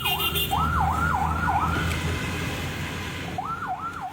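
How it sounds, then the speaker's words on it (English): An ambulance siren wails in a rising and falling pattern on a Mandalay street after an earthquake, breaking off briefly before starting again over traffic rumble. "The sirens of ambulances carrying the dead and injured blared continuously throughout Mandalay"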